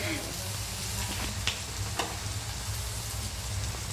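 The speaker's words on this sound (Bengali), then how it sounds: "পেঁয়াজটা বেশ একটু ভাজা ভাজা হয়ে গেলে" Crushed onion sizzles steadily in a hot pan for muri ghonto, a continuous close frying hiss with a couple of faint stirring clicks.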